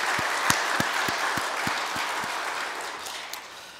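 A church congregation at an anniversary thanksgiving service applauds, starting with a few distinct loud claps that blend into broad, fading applause from the whole room.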